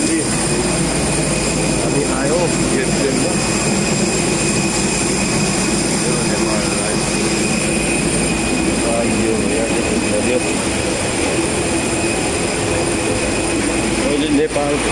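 Steady, loud engine drone and air roar fill the cabin of a passenger airplane in flight, constant throughout with a high whine layered on top, while people talk faintly in the background.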